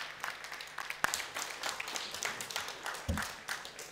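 Audience clapping at a Christian summer convention meeting, a soft, fairly distant patter of many hands that keeps going without a break, with a louder thump near the start.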